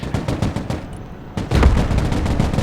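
An Abrams tank fires its main gun in the video game Broken Arrow, landing as a loud heavy boom mid-clip over a dense backdrop of continuous gunfire and battle noise, with rattling shots throughout.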